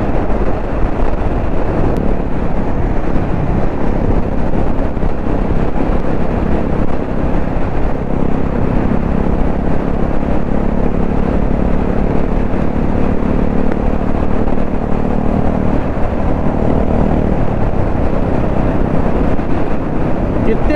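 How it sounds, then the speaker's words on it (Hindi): Strong wind buffeting the microphone during a motorcycle ride to the Krishna river near Kolar, a loud continuous rumbling roar mixed with engine drone, with someone talking over it. "हवा इतनी तेज है ना भाई, क्या बताऊँ, पूरा मुंह पे मार रही है हवा।"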